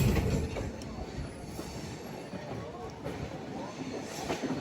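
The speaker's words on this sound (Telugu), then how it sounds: "అబ్బా కరెక్ట్గా మెమో ట్రైన్ వచ్చింది" A MEMU train arrives at Mysuru junction with a dense rumbling roll of wheels and carriages close by, a continuous moderately loud clatter with a faint squeal.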